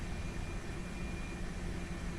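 An A320 airliner taxiing out of Mumbai toward runway 27 in a home-cockpit flight simulator, a steady broadband jet-engine roar and hum held evenly throughout, close and with no talking.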